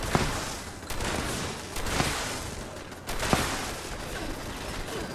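Fallout 76 defensive turrets open fire in short, rattling bursts of automatic gunfire that repeat every second or two over a steady, noisy game backdrop.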